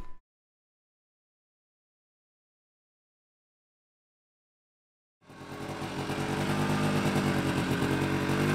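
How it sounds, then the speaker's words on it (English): A snowmobile engine starts up after a long silence and settles into a steady, loud, close rumbling drone, with a short burst of sound at the very start. "Okay, this is Emma's first snowmobile ride."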